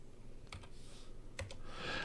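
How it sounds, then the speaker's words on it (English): Keys on a computer keyboard are tapped in two brief bursts of soft clicks, faint and close, while a player enters a name in the Atari game Marble Madness, with a low steady hum behind. "I'm typing my name."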